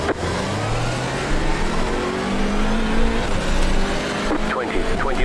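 Hyundai Elantra race cars at Oulton Park in the iRacing game accelerate off the line at a race start, engines rising in pitch through the gears, loud and close, while a voice talks over them.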